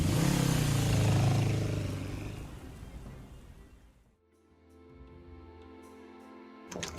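A motorcycle engine roars loudly up close, then fades steadily as the bike rides away. After it is gone only a quiet, low background remains, with a brief sharp noise at the very end.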